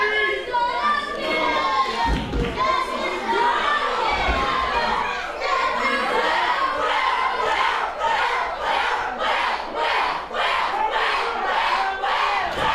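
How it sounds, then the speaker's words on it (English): A wrestling event crowd chanting for Will Asher, a loud, dense mass of voices with rhythmic shouted chants building steadily toward the end, occasional thuds underneath. "The crowd's chanting for Will Asher to come help him"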